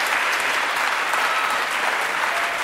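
Studio audience applause on a French television talk show, dense, loud and sustained clapping from a close crowd throughout, with no talk above it.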